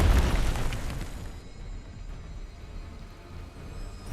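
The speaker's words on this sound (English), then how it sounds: "Your team has destroyed a right enemy tower." An enemy tower collapses in a League-style MOBA video game, a loud booming explosion at the start that fades into a low rumbling tail.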